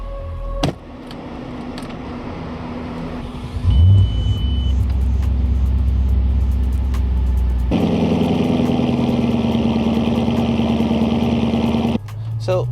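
An Audi RS4 B7 starts with a brief whirring crank, then settles into a deep, steady idle close by, rising to a fuller, louder rumble partway through before cutting off abruptly near the end.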